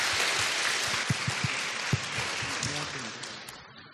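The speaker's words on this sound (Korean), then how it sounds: "큰 박수로 맞이해주세요." Audience applause at a youth policy debate forum, a steady wash of clapping filling the hall for the full stretch, with a few sharper claps standing out and fading slightly toward the end.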